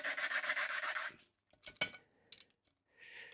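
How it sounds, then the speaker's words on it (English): Valve lapping on a Suffolk Colt engine, a screwdriver twisting the valve against paste in its seat: a loud, steady gritty rasp for about a second, then short scattered scraping strokes and another rasping burst, close by with no talk. "we're just going to see if we can lap this in a little bit."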